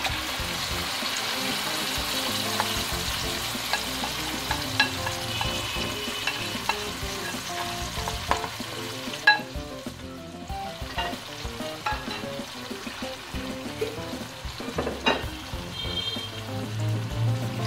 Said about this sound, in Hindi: अब इसमें मैं दाल डाल दूँगी